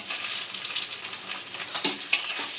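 Cashews and raisins frying in hot ghee make a bright, steady close sizzle with a few louder spits and crackles, and no voices are heard.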